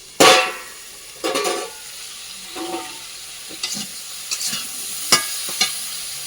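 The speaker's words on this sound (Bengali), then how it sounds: "ঢাকাটা উল্টে দিয়ে আর একটু কষিয়ে নেবো তরকারিটা।" Koi fish curry with plantain, seasoned with turmeric and salt, is stirred in a hot pan, with sharp scraping strokes and bursts of sizzling that come every second or so, loud and close.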